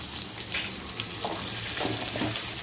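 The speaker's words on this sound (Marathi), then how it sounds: "तेलात टाकल्यानंतर मटार छान उडतो" Green peas fry in hot oil for a matar paneer pulao, a constant close sizzle dotted with small pops and crackles, with no talking.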